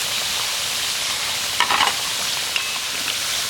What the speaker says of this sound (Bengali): গজাগুলোকে আমি উল্টে পাল্টে খুব সুন্দর করে ভেজে নিয়েছি